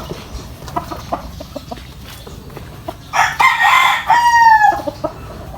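Gamefowl rooster of the Tornado hatch straight comb line, heard first as scattered soft clucks and taps, then a loud, close crow with a drawn-out falling tail; no one talks.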